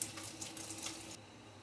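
Curdled milk is poured through a cloth filter while homemade paneer is made, giving a faint, brief watery splashing that stops after about a second.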